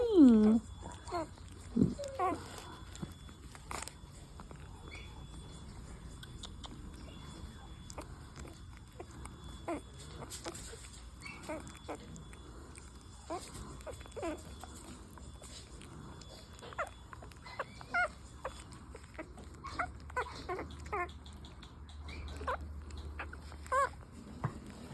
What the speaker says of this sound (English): We have our first puppy that is eating.